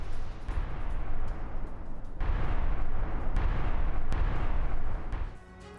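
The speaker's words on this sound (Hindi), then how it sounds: "उजलोवाया ऑयल डिपो में धमाका हुआ है।" Explosion and fire at the Uzlovaya oil depot, which had 58 fuel tanks, after a drone attack: a loud, continuous roar broken by sharp cracks and booms, fading at the end.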